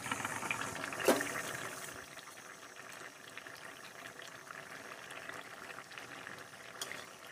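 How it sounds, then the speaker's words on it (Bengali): Potatoes boiling in a covered pot for a Bengali drumstick and poppy seed dish: a faint, steady bubbling simmer with a soft lid clink near the start, continuing quietly and evenly throughout. "এবার দিয়ে দেবো ঢাকা, আলুগুলো সেদ্ধ হোক ভালোভাবে।"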